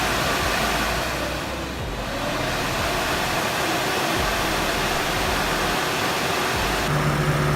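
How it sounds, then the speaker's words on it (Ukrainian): A powerful 180 W cooling fan with many blades runs in a ZAZ Tavria car, a loud, steady close-up whoosh of rushing air that holds constant throughout. "Зараз послухаємо, як він звучить. Звучить він голосніше, бо в нього більше лопастей і в нього 180 Вт, це потужний вентилятор."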